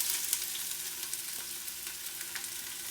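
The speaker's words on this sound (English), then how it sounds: "Add the chopped up onions and jalapeno peppers." Chopped onions and long-cut jalapeno peppers frying in ghee for a biryani, a continuous soft crackling sizzle with tiny pops scattered through it, fairly quiet and steady with no voices.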